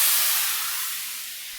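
Marinated steak dropped into a hot pan for a Japanese-style steak rice bowl sizzles with a loud, bright hiss that slowly fades over a second or two.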